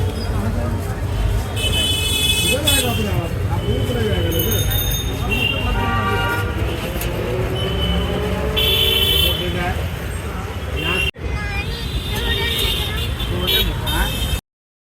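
An auto rickshaw carries people through busy city traffic on the way to temples in Kashi, with continuous engine and road noise, repeated horn toots near and far, and voices talking throughout.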